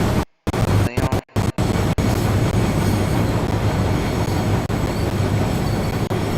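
A rail head treatment train rumbles past close by, shedding slurry, with steady rolling noise and rattling wheels, loud and continuous after a few brief dropouts at the start.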